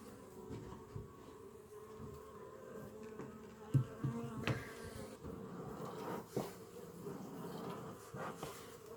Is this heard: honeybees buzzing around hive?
yes